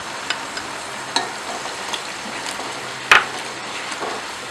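Tomatoes go into a frying pan of browned ingredients and garlic paste, giving a brief splashy burst over a low, steady sizzle, with a few faint clinks of the pan.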